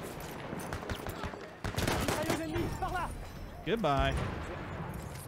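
Grenade blast amid gunfire in a Battlefield 1 multiplayer match at Fort de Vaux, a sharp broad burst midway through rapid crackling shots, with players talking over the action.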